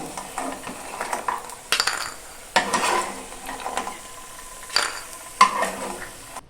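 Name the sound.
stirring frying lentil dumplings in pan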